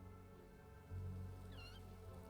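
A small rescue kitten lets out one faint, brief, high meow in a quiet room, heard alone over a low steady background hum.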